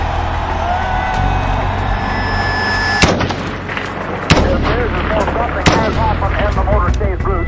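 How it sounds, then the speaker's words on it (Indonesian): Three sharp gunshots, standing in for the Kennedy assassination in Dallas, Texas, crack out loud at a steady spacing over a busy rumbling background. "Presidennya, John F. Kennedy, ditembak 3 kali di Dallas, Texas, Amerika."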